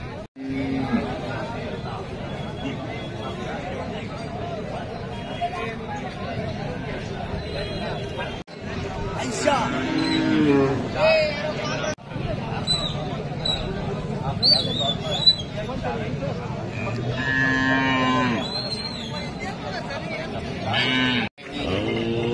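Several bullocks moo at intervals amid a busy crowd at the Belhe bullock market in India, with people talking and chattering nearby throughout.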